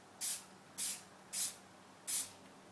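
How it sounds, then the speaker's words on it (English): A spray paint can hisses in four short, evenly spaced bursts aimed at wooden planks, each blast sharp and airy, close by with no one talking. "I'm going to spray a little bit of spray paint in the side"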